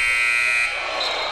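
A loud, steady electronic buzzer sounds at a boys' 5A high school basketball game between Central and Wilsonville, holding a flat sustained tone over gym noise.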